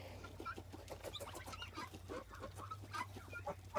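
Guinea fowl on a farm give faint, scattered clucking calls in quick, uneven bursts over a low, constant hum.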